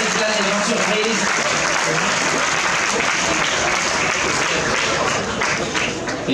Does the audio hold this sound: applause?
yes